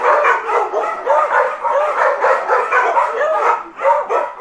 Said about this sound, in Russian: они могут целый день лаять, без дела лаять